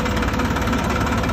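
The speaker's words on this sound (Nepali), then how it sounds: "आज चाहिँ हामी ट्र्याक्टर लिएर जोत्नु जानु लाग्यो होइन" A tractor engine runs steadily before ploughing, a close, loud, continuous rumble with an even throbbing pulse and no voices.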